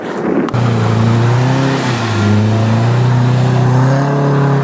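A Nissan S14 doing donuts, its engine held at high revs in a loud, steady drone that climbs and dips slightly as the throttle shifts, close and continuous with no talk over it.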